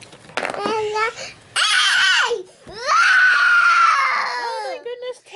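A little girl screams and wails in several long, high, rising and falling bursts with short gasping breaks, loud and close.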